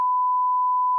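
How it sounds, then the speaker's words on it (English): A steady censor beep, a single pure sine tone held for about a second at constant loudness, starting and stopping abruptly, with no talk around it. "I'll probably beep this out because we don't want people to randomly show up"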